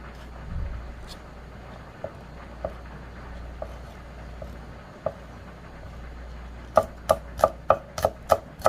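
A knife finely chops small Cheongyang chili peppers on a board, first a few scattered cuts and then a quick, even run of close, crisp chops, with no talking.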